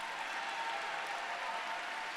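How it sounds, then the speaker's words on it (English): Steady crowd applause at the Virginia Democratic Party's Blue Commonwealth Dinner in 2018, an even, somewhat distant wash of many hands with no breaks. "Would you please give her a round of applause?"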